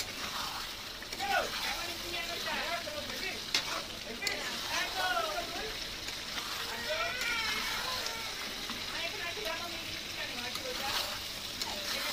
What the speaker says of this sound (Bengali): দেখো আলুগুলো দিয়ে ভালো করে একটু নেড়ে চেড়ে নেবো।